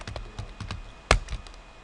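Computer keyboard keys tapped out in a quick run while entering a router command, ending in one louder, sharper press of the Enter key, close and clear with no talking.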